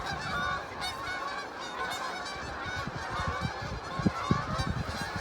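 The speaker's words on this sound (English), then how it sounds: "you can hear the geese coming over here." Geese honk repeatedly overhead, a chorus of calls carrying clearly above faint background noise, with no talking.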